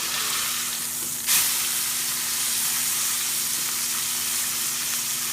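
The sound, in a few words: bighorn sheep burger patty sizzling in pan after flip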